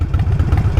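A Harley-Davidson Nightster 1200 motorcycle engine idles close by with a loud, throaty, rapid low pulsing.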